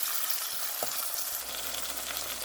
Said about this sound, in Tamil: தக்காளி பழம் நல்லா வதங்கட்டும்